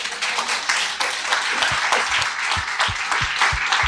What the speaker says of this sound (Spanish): Si tú lo crees, dale un aplauso al Señor.